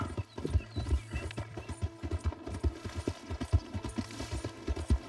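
Hooves clip-clop steadily at a gallop with a horse neighing, from the Red Dead Redemption 2 video game, heard alone over a low rumbling backdrop with no talk.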